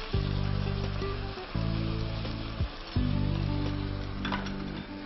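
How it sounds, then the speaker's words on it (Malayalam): Soy sauce sizzles in a hot pan while dragon chicken cooks with tomato sauce, chilli sauce and chilli paste, loud steady frying with a humming burner underneath that cuts out briefly and resumes. "Soya sauce ഒഴിക്കുന്നു."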